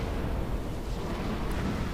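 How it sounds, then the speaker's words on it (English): A fire bomb bursts in Dark Souls II during a fight against the Covetous Demon. It makes a dense, roaring blast of noise that fills the whole moment with rumbling crackle. "Some fire bombs."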